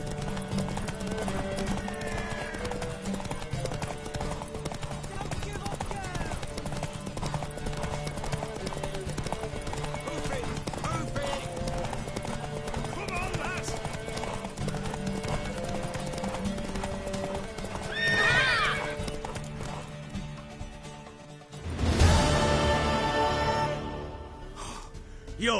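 Continuous galloping hoofbeats in the video game Witcher 3, under a busy mix of music and ambient noise, with a few breathy snorts and a sudden loud surge near the end.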